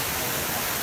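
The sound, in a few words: water splashing in fountain representing the Turia river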